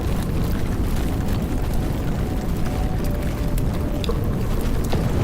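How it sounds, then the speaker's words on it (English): Explosions and roaring fire from the video game Love and Deepspace form a continuous dense rumble, loud and sustained with no clear gaps, broken by faint crackles and small bursts. "Violent explosions and fire erupt one after another to create an intense symphony"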